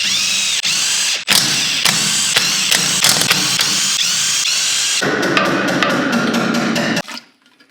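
A power tool drives bolts to fit a cleaned, painted part back in place, loud ratcheting bursts of whirring and hammering impacts one after another, the final run stopping abruptly at the end.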